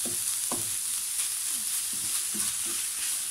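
Ground beef sizzles in a pan over lowered heat while a utensil stirs and scrapes it in several distinct strokes, close and steady, with no voices.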